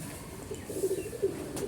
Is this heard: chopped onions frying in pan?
no